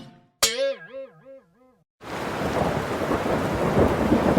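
A cartoon sound effect: a springy, wobbling boing-like tone, then a sudden loud crash of thunder giving way to steady, heavy rain that fills the rest of the clip.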